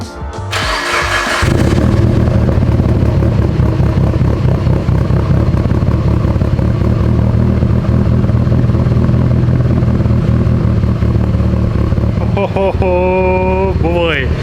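A 700-horsepower Mitsubishi Evo 8 with a newly fitted exhaust cranks over and fires up, then settles into a loud, throbbing idle close by, with brief speech near the end.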